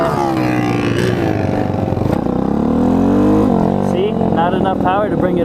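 The engine of an Apollo RFZ Chinese dirt bike, an Amazon purchase, revs loud and close, its pitch climbing and dipping with throttle blips as the small motor strains, with speech faintly mixed in.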